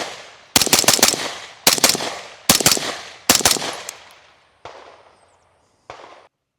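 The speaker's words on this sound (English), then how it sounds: "Shooting with the Print X RBS out at the range" Suppressed rifle gunfire through a B&T Print-X RBS compact suppressor at an outdoor range: four close rapid bursts of several sharp shots each, then two single fainter reports spaced apart.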